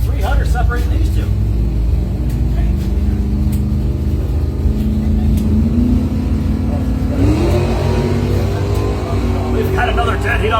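A 1970 Plymouth Duster and a 1977 Oldsmobile Cutlass 442 launch side by side at a bracket drag race, loud engine rumble and rising revs filling the whole stretch, with an announcer's voice running over the roar.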